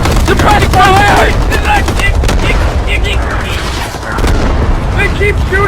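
Loud, dense video game gunfire with rapid bursts and booming shots filling the whole clip, while voices shout and yell over it throughout.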